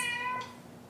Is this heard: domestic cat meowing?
yes